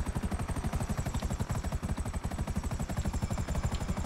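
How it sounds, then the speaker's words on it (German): A helicopter in the video game GTA V, a loud, close, rapid rotor chop with a steady whining engine tone, beating evenly and continuously throughout without any voices. "Die Frage ist nur, wo bringen wir den Heli runter?"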